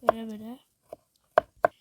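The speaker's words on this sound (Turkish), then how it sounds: "Sarımsak doğramak böyle yani" A knife chops garlic on a board in a kitchen with a few sharp, separate knocks after a short spoken phrase.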